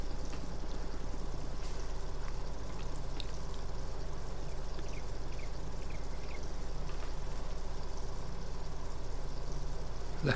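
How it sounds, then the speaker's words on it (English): Water pouring into a tank in Farming Simulator 22, a continuous, even gushing and trickling flow that stays steady and fairly loud for the whole stretch, with faint chirps in the background. "Right, filling up water now."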